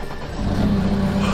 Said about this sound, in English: Do you hear that engine purr?